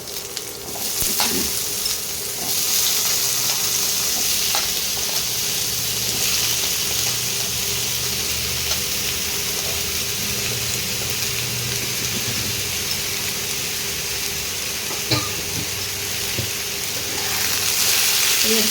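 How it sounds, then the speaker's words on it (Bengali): Thick-cut potatoes frying with onions in a pan, a loud continuous sizzle with occasional stirring scrapes and clinks, steady throughout with no talk. "আলুগুলোকে পেঁয়াজের সঙ্গে ভাজা ভাজা করতে হবে।"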